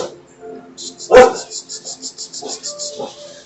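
Dogs bark indoors in a short loud burst, then fainter yips follow, with a rhythmic chirping in the background.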